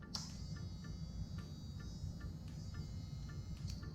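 A two-speed pet nail grinder motor runs steadily, giving a close, quiet electric hum and whine with faint periodic ticks and no speech.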